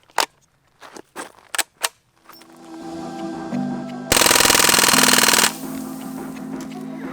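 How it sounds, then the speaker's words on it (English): Crosman AK1 full auto BB gun firing, starting with a few sharp single clicks, then a mechanical whir building up and a loud, rapid buzzing burst of full-auto fire lasting over a second before the motor hum winds down. "This is the Crosman AK1 full auto BB gun."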